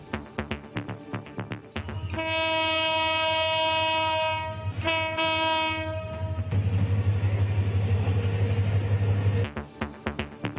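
A passenger train on a railway sounds a long, loud, steady horn blast, then keeps rumbling past with a dense roar and rhythmic wheel clatter at the start and end.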